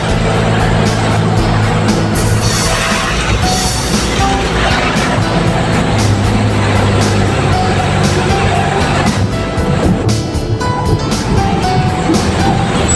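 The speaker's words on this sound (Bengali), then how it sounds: "কত জোরে বৃষ্টি হচ্ছে" Heavy rain drums on a moving car during a wind-driven downpour, a loud, dense, steady wash of noise under the engine and road rumble that runs continuously throughout.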